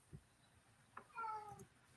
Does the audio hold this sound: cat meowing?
yes